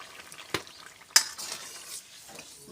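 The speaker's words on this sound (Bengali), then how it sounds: "জিরা বাটা দিয়ে দিলাম" Cumin paste dropped into a hot pan in a village kitchen, two sharp clattering hits followed by a soft sizzle, close and brief.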